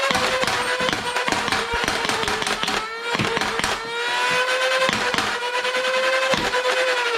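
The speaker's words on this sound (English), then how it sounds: "you can simply hold down the rev trigger and pull the main trigger every time you want to fire a round" Nerf Pro Sender flywheel blaster held revved and fired repeatedly, a steady whirring motor drone broken by rapid sharp pops of darts launching in quick succession, loud and close.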